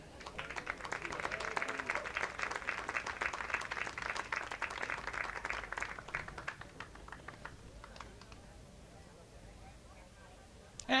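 A crowd at a high school boys lacrosse game applauds the seniors and their parents, a steady patter of many hands for several seconds that thins and fades toward the end.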